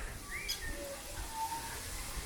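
Birds calling in a zoo enclosure: a few faint, thin whistled calls and short chirps scattered over a couple of seconds against steady background noise.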